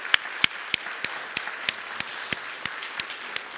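Congregation at a Korean church Sunday worship service clapping in a steady, evenly spaced rhythm of about a dozen crisp claps, moderately near and fairly quiet over a soft room hiss.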